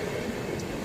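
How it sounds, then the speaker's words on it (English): An Indian Railway train rolls along the tracks on the Jaipur to Rewari route, giving a steady, close, continuous low rumble with no voices. "This is the beautiful of watching the train"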